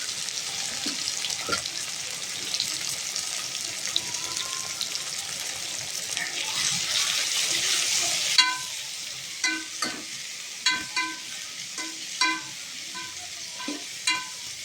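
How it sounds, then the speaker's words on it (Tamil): Large onions sauté in a pan with a soft, steady sizzle up close. After a few seconds, a series of distinct spoon strokes scrape and tap against the pan at a slow, uneven pace, with no speech. "பெரிய வெங்காயத்தை நல்லா வதக்கிக்கிறணும்"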